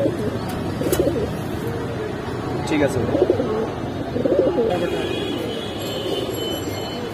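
Hydraulic pigeons cooing in soft repeated throaty bursts at Kaptan Bazar pigeon market, with people talking nearby over a busy background.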